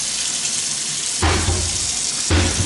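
Hot water runs steadily from a faucet into a stainless steel sink, a loud continuous hiss and splash, with two brief shifts where the flow deepens into a heavier, lower gush.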